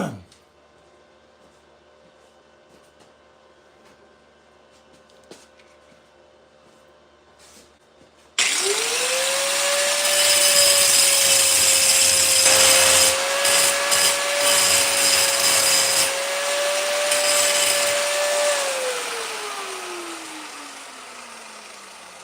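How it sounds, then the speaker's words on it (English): An angle grinder works over a fresh weld on a wheelie bar mount, spinning up sharply after a quiet start, grinding loudly for about ten seconds with a steady whine, then winding down. "Now we'll do some grinding and see how good we got the weld."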